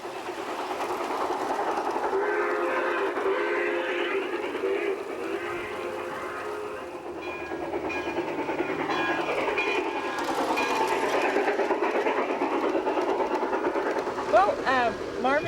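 Garden railroad model trains run along an outdoor track, a continuous rolling rumble with clickety-clack wheel rhythm and swelling, whining tones as the locomotives pass, steady and fairly close throughout.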